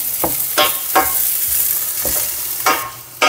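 Potatoes and carrots sizzle steadily in a frying pan, with several sharp scraping stirs of a spatula breaking through at irregular intervals, close and fairly loud, with no talking.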